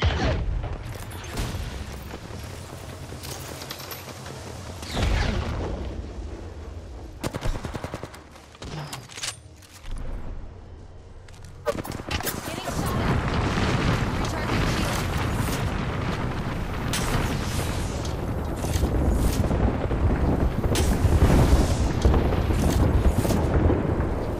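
Rapid gunfire and heavy explosions in the Apex Legends video game rattle close and loud, bursts of shots broken by short lulls, then a dense sustained barrage through the second half.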